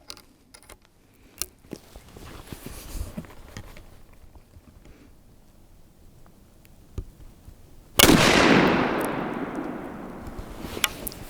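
A rolling block rifle being worked and fired, with sparse metallic clicks and clacks of the action and ejecting cases, then one loud sharp shot that decays over a few seconds, outdoors and without talk.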